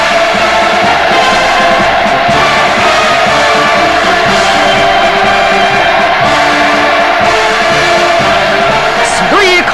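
A huge crowd lining the streets of Pyongyang cheers enthusiastically for a visiting head of state, producing a loud, dense, unbroken roar of shouts and whoops throughout, with no speech.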